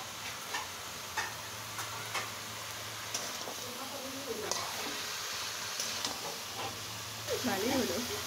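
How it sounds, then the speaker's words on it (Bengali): Lentil bori dumplings being fried and stirred in a curry base, with a soft sizzle and a steady run of scraping spoon clicks, while a voice speaks over them at moments. "এখন আমি কষানোর সাথে বড়িগুলা দিয়ে দিচ্ছি, কারণ বড়িগুলা কষিয়ে নিতে হবে।"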